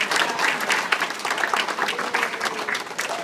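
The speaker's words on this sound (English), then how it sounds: "give one big hand clap for Michelle" Audience applause at a quinceañera celebration, a full, sustained burst of clapping from a crowd heard up close and fairly loud, with no talking over it.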